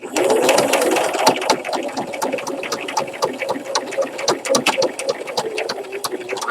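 A sewing machine stitching variegated thread along a fabric ChapStick holder with a key ring, a steady fast whirring hum with rhythmic needle clicks, running continuously and up close.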